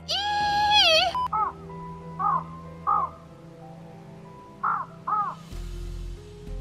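Several harsh crow-like caws ring out in separate bursts, close and fairly loud, after an opening high warbling tone, with a low droning background throughout.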